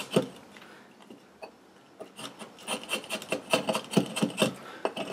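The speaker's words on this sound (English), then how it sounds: "all I'm really doing here is just smoothing down some of the axe cuts that I've made" A Hans Karlsson sloyd axe smooths earlier axe cuts on wood, making close scraping and rasping strokes that start sparse and quiet and then grow into a quick, steady run of louder, brushy rubs.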